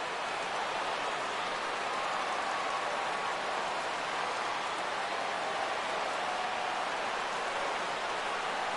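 A stadium crowd in the baseball video game MLB The Show 16 fills the air with a steady, faint, hissing wash of cheering that holds level throughout without distinct peaks.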